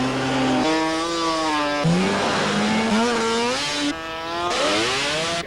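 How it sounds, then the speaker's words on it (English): Racing snowmobiles scream across a frozen lake in a drag race. High engines rise and fall in pitch through successive gear shifts and passes, loud and close, with no voices. "Perfect conditions to go drag racing snowmobile"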